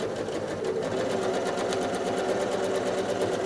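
A sewing machine stitching slowly during free motion quilting of a basket block hums steadily, with soft rapid needle ticks running through the whole passage.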